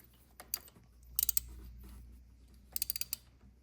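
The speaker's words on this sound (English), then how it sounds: "we'll just put our ratchet on there and literally give it just the tiniest of" Ratchet clicking while snugging a spark plug on a 2018 Harley-Davidson Road Glide Special with a Milwaukee-Eight engine: short quiet bursts of rapid clicks, close and soft, with brief pauses between them.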